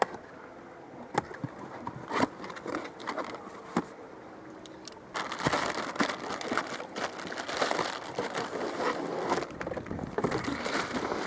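A ballast bag is handled and pulled out of an Axis boat: plastic crinkles and rustles with sharp clicks and knocks, getting denser and louder in the second half.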